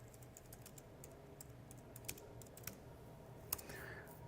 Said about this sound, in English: We're going to type in fuse size calculator